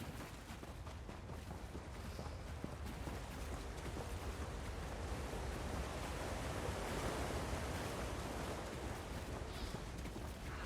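Steady rushing water of a waterfall in the video game Elder Scrolls Online, a continuous broadband roar that holds even and loud throughout with no talk.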